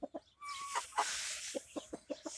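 A backyard flock of chickens, including a red hen, clucking close by in short, rhythmic bursts, with one drawn-out squawk early on.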